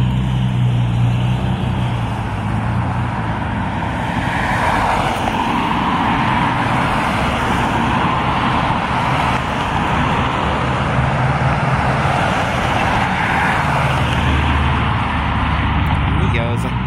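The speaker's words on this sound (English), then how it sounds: "We got some cars coming." Cars passing on a road, a continuous loud roar of traffic with swelling and fading tyre and engine noise throughout.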